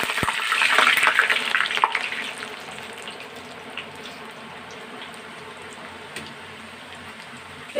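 Homemade French fries dropped into hot oil, a loud burst of bubbling sizzle at first that settles into a quieter, steady frying hiss.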